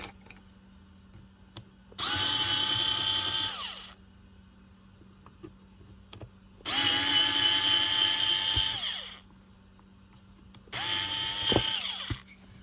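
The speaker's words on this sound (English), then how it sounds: "now we're going to take out the 3 base plate screws" A power screwdriver backs the base plate screws out of a Sears trolling reel in three separate whirring bursts of about two seconds each, loud and close, with quiet pauses between.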